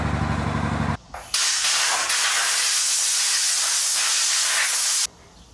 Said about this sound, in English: I'm gonna spray it out with some air real quick in case there's any dust locked up in there.